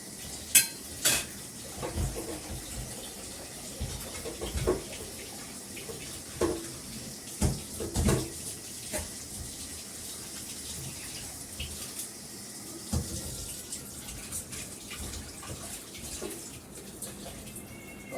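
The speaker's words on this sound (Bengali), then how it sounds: "কড়াটা একটু ধুয়ে নিই" A wok rinsed under a running kitchen tap, steady water splashing with scattered metallic clanks and scrubbing knocks, close and moderately loud with no talk.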